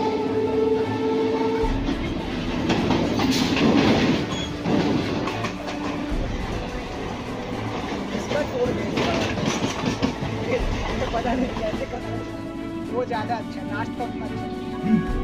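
A local train from Belur runs on rails into Howrah Junction, its steady rumble and rhythmic clickety-clack of wheels over joints filling the scene, with a person talking over the continuous rolling noise.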